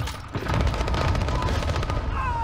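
Dense video game gunfire, a rapid continuous burst of loud shots with booming low end running almost the whole time, close and dominant, without talk over it.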